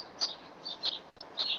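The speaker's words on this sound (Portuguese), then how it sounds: "estamos ouvindo passarinhos ao fundo" Small birds chirp in the background of an indoor online electrical workshop: several brief high tweets come in short bursts, faint against low room noise.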